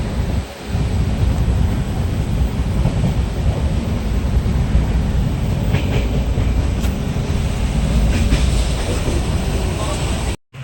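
A passenger train heading toward Darjeeling rumbles along continuously, with a heavy low roar and faint rhythmic clatter from the cars that runs loud and unbroken until a sudden cutoff at the end.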